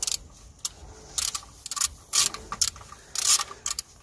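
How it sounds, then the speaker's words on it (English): A ratchet driving a T45 Torx bit undoes bolts on a BMW EGR valve, giving rapid close clicking bursts in uneven runs with short pauses between them and no speech. "we're going to be using the T45 bit to undo the bolts here"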